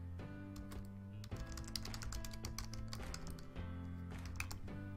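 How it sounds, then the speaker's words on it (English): A computer keyboard is typed on in a quick, irregular run of close, crisp key clicks that continues throughout with no talking over it. "So type in your keyword and hit enter"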